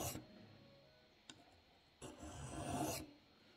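A steep chisel-ground edge of an Emerson CQC-7 knife is drawn across an Arkansas sharpening stone. There is a quiet rasping rub, a single faint click, and then a louder, longer scraping stroke near the end.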